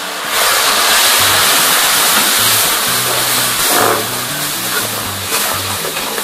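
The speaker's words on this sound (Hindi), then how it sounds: "पानी शामिल करेंगे।" Water pours into a cooking pot of kadhi over fried masala, a loud, continuous rushing splash close by that fills the whole stretch, with a low rumbling hum beneath.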